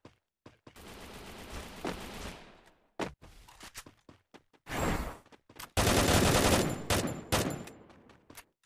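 Gunfire in the mobile battle game Free Fire: bursts of automatic fire and single shots in an uneven pattern, with long loud stretches broken by short pauses, close and loud, with no voices.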